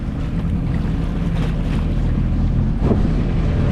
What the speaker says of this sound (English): I still have the sails up, but going with the low RPMs on the engine